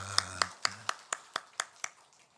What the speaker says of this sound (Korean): 우리 크게 우리 모두를 위해서 박수 한번 하실까요?